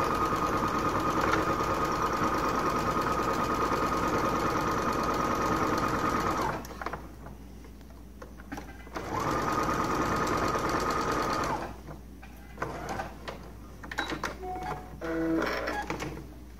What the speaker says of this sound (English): I just sew the little face onto the hat with a 1/4 inch seam allowance.